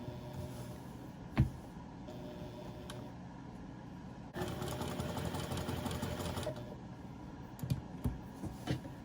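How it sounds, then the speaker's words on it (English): A sewing machine stitching appliques onto a patchwork garden quilt with coated needles, running in a steady close whir that gets louder partway through, with a few clicks and taps. "right now I'm sewing appliques on that I have made from ink"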